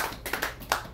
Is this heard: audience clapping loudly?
yes